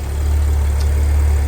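A supercharged Audi S4 3.0T, a B8/B8.5 model, idles with a loud, steady low-pitched drone and hum that holds evenly throughout, heard up close with no voices.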